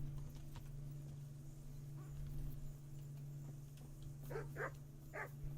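A dog barks in the medieval village of the video game Kingdom Come: Deliverance, three quick sharp barks near the end over a steady low background drone and faint ambient clatter.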